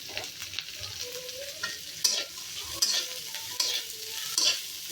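Chicken curry ingredients frying in a pan with a steady soft sizzle, while a spoon scrapes and stirs in several distinct louder strokes spaced about a second apart, close and fairly quiet, with no talking.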